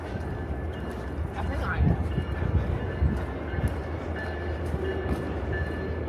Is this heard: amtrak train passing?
yes